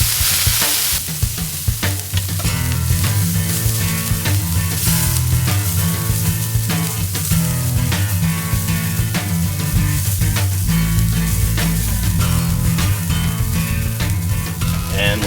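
Hash browns frying in peanut oil on a Blackstone flat-top griddle give a steady, dense sizzle that runs unbroken for about fifteen seconds, close and fairly loud, with low humming tones underneath and no talking.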